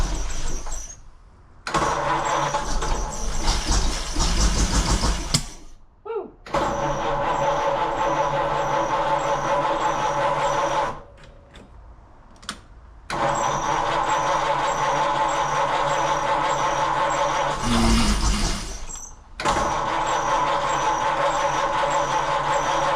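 A 1933 three-window coupe engine cranks and starts several times, running loud and steady between short abrupt cutoffs and restarts, heard up close with a rough, sustained roar.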